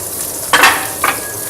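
Chopped onions are added to hot olive oil in a pan. They hit with a sudden loud sizzle that fades, followed by a second, smaller burst of frying hiss, close up with no talking.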